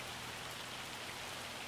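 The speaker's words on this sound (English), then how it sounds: "And we got hail." Hail and rain in the video game Farming Simulator 25, a steady dense patter of falling precipitation, continuous and fairly quiet with no talk over it.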